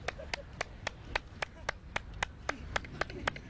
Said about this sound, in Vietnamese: Vỗ đi,